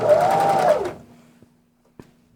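Sewing machine stitching a hat, a loud steady run of about a second that stops abruptly, followed by a few faint clicks and a low hum.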